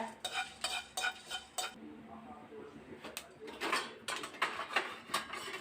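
Dried red chilies fry in a pan alongside roasted black pepper, giving a low crackle broken by repeated scraping and stirring clatter, with brief pauses.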